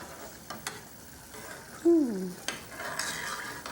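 A spoon stirring chicken à la Creole in a hot pot, quiet scraping and clinking strokes over a soft background sizzle, with a brief squeaky scrape in the middle and a few sharper knocks.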